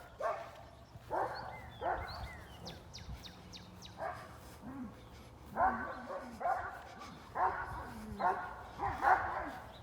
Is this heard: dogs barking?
yes